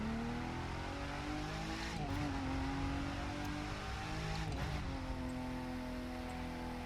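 Engine of a Nissan touring-style race car in The Crew 2 video game, a steady droning whine that rises and falls as it shifts through gears, with brief tire squeals, faint and continuous with no talking.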